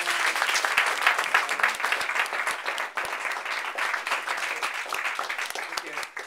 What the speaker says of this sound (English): So if we could just give him a huge round of applause.